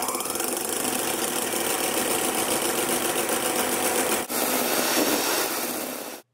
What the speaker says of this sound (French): Ensuite, on bat les 2 blancs d'œufs en neige.